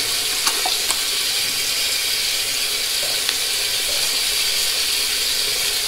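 Tap water runs in a steady, even hiss while a RazoRock SLOC safety razor is rinsed of whiskers under the faucet. It sounds close and continuous, with a few faint clicks of metal, and nobody speaks.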